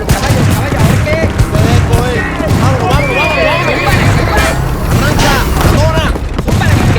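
Western shootout with rapid bursts of gunfire and booms throughout, mixed with loud horse whinnies and hoofbeats, voices shouting over the chaotic din.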